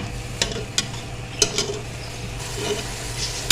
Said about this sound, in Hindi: पाए हमारे भूनते जा रहे हैं।